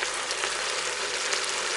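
Onions frying in a pan with a cinnamon stick, salt, pepper, paprika and turmeric for a chicken and carrot tajine, a steady close sizzle and crackle of hot oil with no voices.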